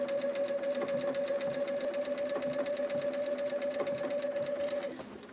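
A sewing machine stitches appliqué onto a quilt, a steady rapid hum and needle clatter running continuously near the mic before slowing and stopping at the end.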